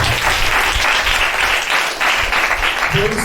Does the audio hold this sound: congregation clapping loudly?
yes